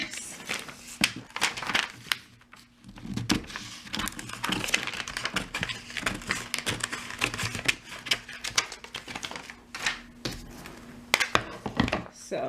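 Scissors cut through a heat transfer sheet for a home T-shirt print, giving irregular crisp snips and paper crinkling, close and fairly quiet, with a voice talking in between.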